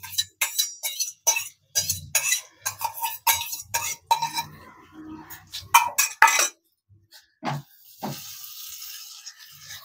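A spoon clinks and scrapes against a pot as beaten sour yogurt goes into a raw-egg curry and gets stirred. The taps and knocks come close and in irregular bursts, with quiet gaps between.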